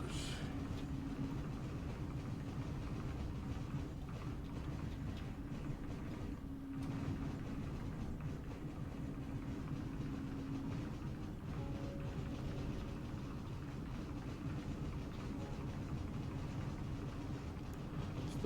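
Train at a station platform in Star Citizen, a constant low rumbling roar with faint rattles and a brief dip midway, steady and fairly loud throughout.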